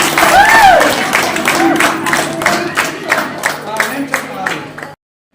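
A crowd at a company's eighth anniversary celebration with cake cutting breaks into applause. A voice rings out over the start, then sharp hand claps ring out steadily before the sound cuts off abruptly.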